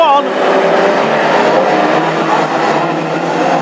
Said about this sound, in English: And Mark 1 Escorts are neck and neck, flying up the back straight once again